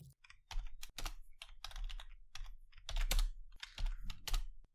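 Computer keyboard typing, a burst of irregular clicking keystrokes, fairly close and moderately loud, with brief pauses between quick runs of taps.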